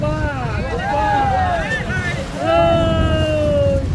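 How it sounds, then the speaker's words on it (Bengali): Trawler on a stormy, wavy river in the Sundarbans near Karamjal: wind gusts and a low engine drone with wave wash, while voices speak loudly over it. "দেখেন কত বড় বড় ঢেউ কি তুফান দিচ্ছে নদীতে"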